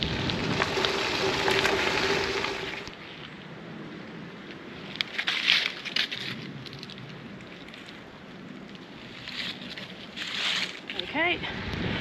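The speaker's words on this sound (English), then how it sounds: "It's raining." Rain patters steadily outdoors at Talybont Reservoir in the Brecon Beacons amid rushing wind and water, with occasional louder splashes and a few faint chirps near the end.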